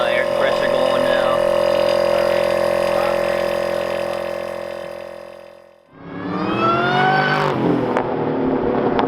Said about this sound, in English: We got the air compressor going now.